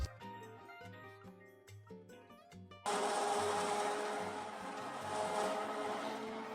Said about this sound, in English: I'm going to use the hand blender because it's faster